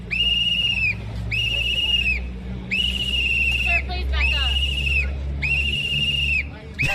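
A protester at a rally blows a whistle in five long, loud, shrill blasts, evenly spaced, over a low rumble of traffic and crowd noise.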